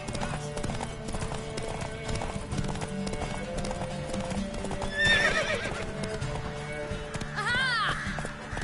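Rhythmic hoofbeats of a horse clip-clopping at a run, with two sharp whinnies partway through, over a layer of game music from Witcher 3.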